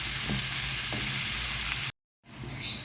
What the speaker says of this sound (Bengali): এখানে পাশের চুলায় কিছু আমি পেঁয়াজ সরিষার তেলে বসিয়ে দিয়েছি, একটু ভেজে বেরেস্তার মতো করে বাদামি করে গোশের উপর দিয়ে দিব